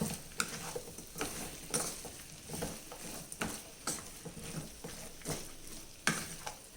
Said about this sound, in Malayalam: 1 സ്പൂൺ ഉപ്പും കൂടെ ഇട്ടിട്ട് നല്ലോണം ഒന്നും കൂടെ ഇളക്കി മിക്സ് ചെയ്യാം.